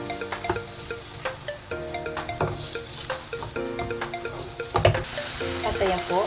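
Ground pork mince being stirred in a pan for Kapampangan sautéed banana heart, with steady frying sizzle under scraping and clinks of a spatula, plus occasional water and faucet-like noises and a faint hum in the background.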